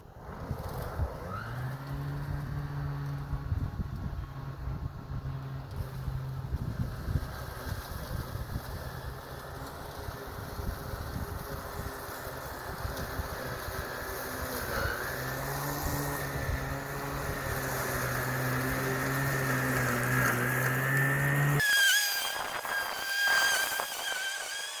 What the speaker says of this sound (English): I'm just mulching it, so it should be pretty hard on the engine.